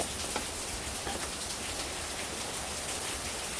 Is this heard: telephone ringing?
no